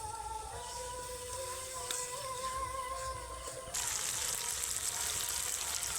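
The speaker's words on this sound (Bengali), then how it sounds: "এই বাটিতে অল্প একটু জল দিয়ে দেবো" Small amount of water added to spice paste cooking in a pan for a Japanese puti fish curry, giving a steady sizzling hiss that turns brighter and louder partway through as the liquid hits the hot masala.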